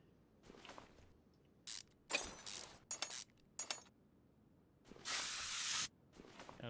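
A WD-40 spray can gives several short hissing bursts during work on a car's underside, ending in one longer spray, all close and fairly quiet against faint background noise.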